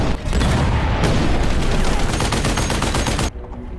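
Rapid loud gunfire with booming cannon shots fills an action film battle scene, dense continuous bursts that cut off abruptly near the end.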